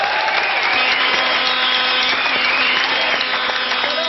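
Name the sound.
studio audience applause for Laurent Baffie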